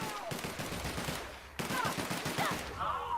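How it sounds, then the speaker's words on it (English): Rapid, dense gunfire in The Outer Worlds rattles close and loud in continuous bursts, with a short break midway before firing resumes, under brief shouting. "Stop shooting me!"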